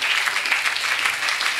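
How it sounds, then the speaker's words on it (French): A church congregation claps for the Lord during a French-language sermon, a dense steady wash of applause lasting under two seconds with no voices over it. "Est-ce que tu peux applaudir le Seigneur?"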